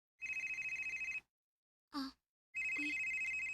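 A cellphone rings indoors in two bursts of fast, warbling electronic trills, with a short clatter between them; no one talks.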